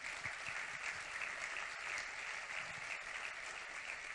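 Faint, distant applause from a conference audience honouring keynote speakers, a steady patter of clapping that stays low and even throughout the short stretch.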